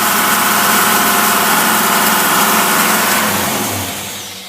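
A car engine idling on tri-power carburetors runs as a steady, loud, close mechanical rumble for several seconds, easing slightly toward the end, with no talk over it.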